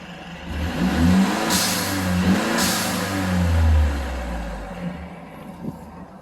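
A Mercedes C300 (W205) engine with modified mapping revs up and settles, a deep rumbling drone rising in pitch twice before dropping back, steady and close with no talking.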